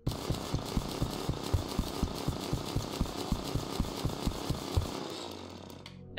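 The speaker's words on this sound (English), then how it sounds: "So now using this drill, I can now mine the plant phazon." A nova drill from a Metroid mod for Terraria grinds through plant phazon, a loud, rapid chainsaw-like buzz with regular rhythmic pulses for about five seconds before cutting off abruptly.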